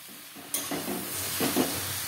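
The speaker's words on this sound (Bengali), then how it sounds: "এবার আমি কড়ার মধ্যে দিয়ে পালং শাকগুলোকে ভালো করে উল্টে পাল্টে নেড়ে দিচ্ছি" Spinach is stirred and turned in a wok, with spatula scrapes and tossing against a soft sizzle that swells with each push. No voices are heard.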